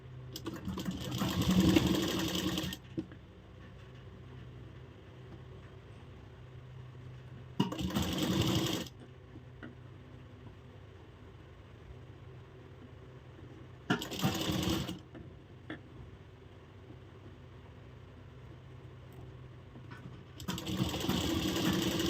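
A sewing machine stitches a katori blouse in four short bursts separated by pauses, each run loud and steady at close range with quiet gaps between.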